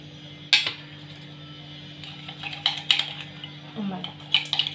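Dalgona coffee being stirred into milk by hand: a spoon clinks and scrapes against a glass in irregular bursts, with faint voices now and then in a quiet kitchen.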